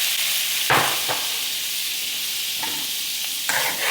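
Steady loud sizzling of garlic and chilli in a hot pan, with a few sharp bursts as boiling water hits the oil and something is stirred.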